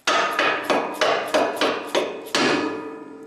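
A lower control arm bolt from a donor Mustang is hammered into a Factory Five MK4 chassis, seven sharp metallic taps at a steady rhythm, loud and close, with no talking.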